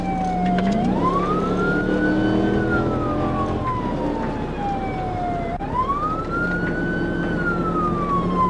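Police car siren wailing loudly and close during a street pursuit through Harrison's main streets, its pitch sweeping up and down in long cycles over steady engine and road noise, with no talking.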